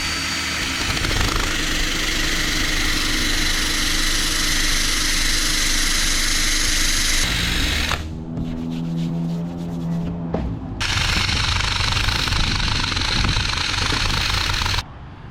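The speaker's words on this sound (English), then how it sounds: "To get the rest of it off, I'll use a rubber eraser." A rubber eraser wheel on a power tool grinds adhesive residue off the hull of a C-Dory TomCat boat, a loud continuous whirring scrub that briefly drops in pitch and load midway before resuming.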